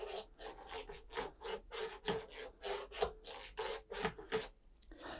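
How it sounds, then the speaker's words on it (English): A CNC router bit on a Sainsmart Genmitsu 4040 Pro scrapes against the spoilboard after tramming, making a series of about a dozen close, rhythmic rasping strokes, each brief and evenly spaced. "what we can hear now is the bit should catch all the way around."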